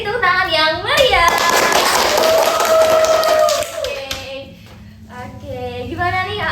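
Audience applause at a student association podcast event breaks out after a speaking voice and carries on for about three seconds with a thin whistle-like tone above it, then fades into talk.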